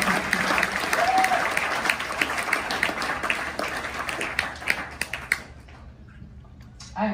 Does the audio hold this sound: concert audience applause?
yes